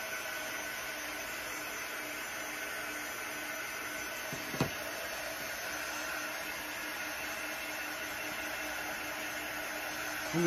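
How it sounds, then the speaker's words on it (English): A hair dryer blows in a continuous, steady whoosh for several seconds, drying paint paste transfers up close, with one brief knock partway through. "Or you can just simply use a hair dryer."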